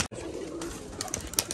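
Black Gribaj pigeons coo softly at a pigeon farm, with faint chirps and rustling in the background and no speech.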